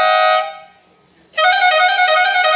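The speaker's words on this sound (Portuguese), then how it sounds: "Essa é aquela três corneta alternada e contínuo." An aftermarket three-trumpet horn on a Fiat Ducato van blares loudly in bright sustained tones, fading out briefly before blasting again at full strength.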